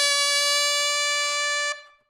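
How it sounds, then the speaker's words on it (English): Saxophone missing a high altissimo note, a bright buzzy held squawk full of harsh overtones lasting under two seconds before cutting off abruptly. "the sound that you're going to get most of the time when you miss the note are what I call furps"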